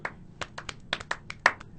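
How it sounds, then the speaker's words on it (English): An audience at a Friday night music show claps hands in scattered, uneven bursts, a few people at close range, with no voices over it. "Everybody clap your hands."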